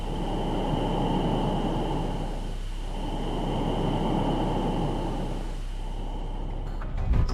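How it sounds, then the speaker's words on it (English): A steady, breathy hiss with a faint whistling tone, plasma around Earth recorded in space by NASA's Polar probe, runs throughout, swelling and fading slightly like slow breathing, ending in a brief crackle. "NASA's Polar mission, which was launched a few decades ago, managed to record this breath-like hiss."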